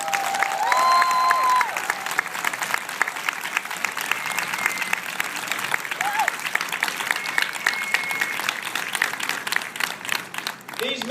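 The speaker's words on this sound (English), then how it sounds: "let's give them a great big round of applause" An audience gives sustained, loud applause to original Tuskegee Airmen at a screening event at the Intrepid Museum, dense clapping with some cheering holding steady for over ten seconds while a voice speaks faintly over it.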